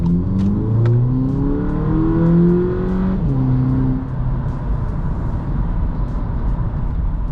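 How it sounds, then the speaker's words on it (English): A VW Polo GTI 2.0 engine revs up hard, its pitch climbing and then dropping as the gear shifts, loud and close, heard from inside the cabin. "you can already hear the response on the engine"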